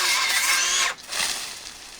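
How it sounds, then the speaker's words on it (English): A DeWalt circular saw whines loudly through a cut, briefly drops out, then runs on more quietly with no voices. "I got my DeWalt circular saw."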